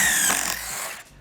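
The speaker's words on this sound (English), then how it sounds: "put the correct Craig pocket hole drill bit on there, and then you create 2 pocket holes" Pocket hole drill bit boring into wood, a brief loud whirring grind that fades and then cuts off.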